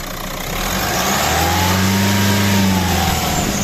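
The diesel engine of a 2013 Renault Scenic is held at raised revs, a loud steady drone with a rising and falling whine as the turbo spools, heard up close without speech.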